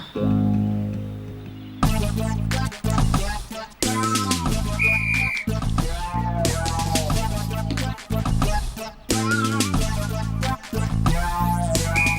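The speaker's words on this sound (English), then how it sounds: "You know how to whistle, don't you?" A person whistles a lively, bouncing melody in short phrases with quick pitch jumps, close and clear over a faint background.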